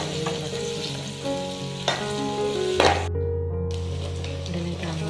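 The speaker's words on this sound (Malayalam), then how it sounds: "സവാള ഒന്ന് വഴറ്റി ഇളക്കി കൊടുക്കാം." Onions sautéing in a pan for a Kerala okra dish, a steady close sizzle with occasional scraping stirs and a brief pause, no talk over it.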